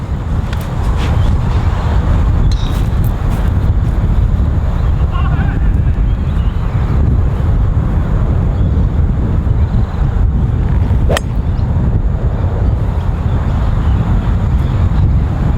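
Steady wind buffeting a microphone outdoors on a golf course, a continuous low rumble throughout with faint voices underneath.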